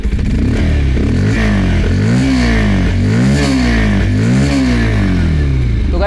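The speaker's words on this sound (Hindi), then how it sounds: "काफ़ी स्मूथ साउंड कर रही है मोटरसाइकिल" Close, loud exhaust of a 2021 Bajaj Pulsar 125 BS6 motorcycle as the engine is revved up and down in repeated swells over a running idle.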